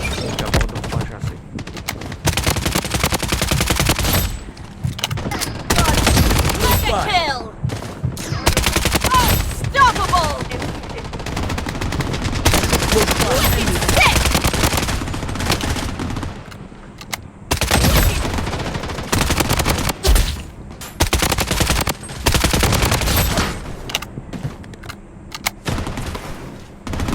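A Galil machine gun with a 100-round magazine firing in a shooter video game, long rapid bursts of loud automatic fire broken by short pauses, with occasional talk over the shooting.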